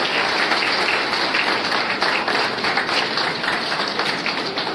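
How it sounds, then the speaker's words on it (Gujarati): An audience at a community education ceremony in Porbandar claps continuously, a dense, even wash of applause that fills the whole stretch without pause. "તાળીઓનો પણ ગણગડાટ જોરથી થાશે"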